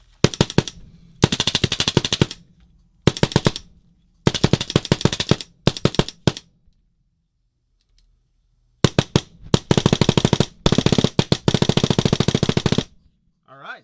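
A PBX Autorocker paintball marker fires in rapid bursts of sharp, closely spaced shots, several strings separated by short pauses, loud and close with no talking.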